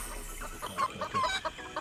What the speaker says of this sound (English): so we are clucking along. Okay, we're chickens for some reason.